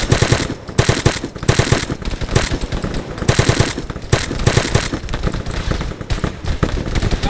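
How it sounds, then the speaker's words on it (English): Loud, continuous automatic gunfire from Arma 3 with rapid overlapping bursts of blind fire, close and dense for the whole stretch, with no voices. "I'm blind firing, not the best thing, and then I'm dead"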